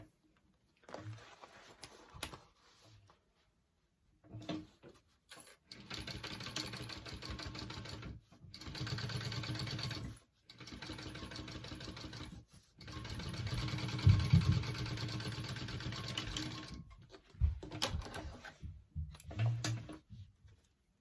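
A sewing machine topstitches the folded exterior of a fabric pouch, running in several sustained bursts of steady whirring stitches separated by short pauses, close and moderately loud with no talk.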